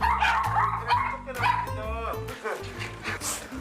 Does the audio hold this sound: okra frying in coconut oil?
no